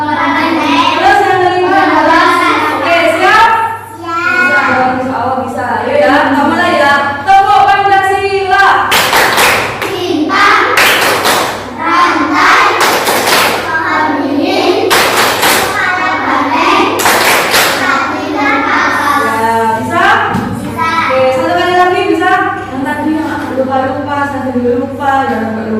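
Children clap along to the Tepuk Pancasila chant in a classroom, steady rhythmic hand claps mixed with loud sung and spoken voices throughout, with bursts of sharper, louder clapping in the middle.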